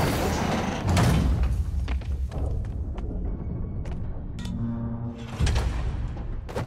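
A heavy trap door in Marvel's Spider-Man game scene opens with thuds and a scraping slide, loud bangs near the start and end amid clattering room noise.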